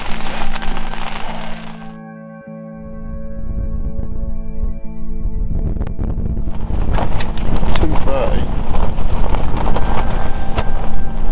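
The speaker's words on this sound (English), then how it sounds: "The wind's due to pick up" Storm force winter wind buffets a Naturehike Cloud Peak 2 tent at a solo camp, a loud continuous roar with fabric flapping and sharp cracks close by, easing briefly before surging again.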